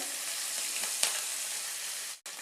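Chopped green chillies sizzle in hot oil with hing, dry red chillies and bay leaf for a sambar tempering, a loud, steady close-up hiss with a brief stir near the middle.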